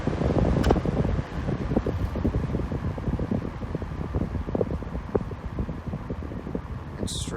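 A vintage Westinghouse AF05 electric fan running on its low setting gives a steady, soft broadband whoosh of moving air with faint rustling ticks, close and continuous throughout, with no talk.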